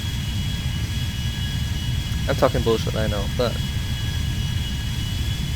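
A Boeing 777-300ER taxiing in GTA V gives off a steady, droning jet-engine whine with a faint high tone, running continuously beneath someone talking throughout.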